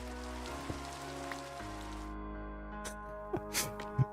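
Steady rain pattering on the ground in Minecraft, a soft continuous hiss with a few brief clicks and blips over it.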